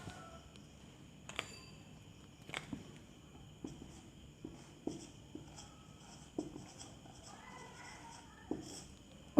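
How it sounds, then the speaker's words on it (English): A pen writes the enzyme name protease during a biology lesson, giving faint, intermittent scratchy strokes and taps in a quiet room, with a steady soft electronic hum behind them. "So I am writing the name here"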